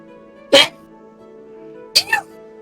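Two short, sharp sneezes, each a sudden burst followed by quiet, the second slightly softer with a trailing catch, close to the microphone.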